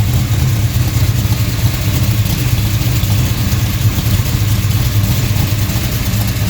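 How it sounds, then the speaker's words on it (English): A DCI Motorsports 535 cubic inch RA5 tunnel port engine, all aluminum with a cam showing some overlap, idles steadily around 1,000 RPM, loud and close with an even, deep rumbling throb throughout. "You can hear it's got a decent idle to it."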